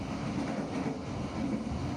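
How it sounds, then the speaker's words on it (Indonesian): The Serayu passenger train pulls into Kiaracondong station with a steady, loud rumble of rolling rail cars and broadband noise, heard alone. "perjalanan kereta api Serayu tiba di stasiun Kiara Condong"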